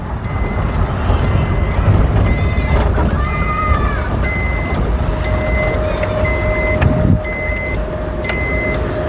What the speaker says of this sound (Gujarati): ડેરીની અંદર ગાડી નાખી દીધી છે.